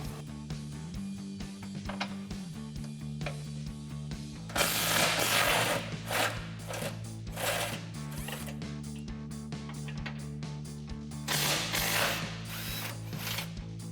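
A ratchet wrench with an 18 mm socket loosens skid plate bolts on a Jeep Gladiator JT, giving rapid close clicking in repeated bursts alongside a steady low mechanical hum.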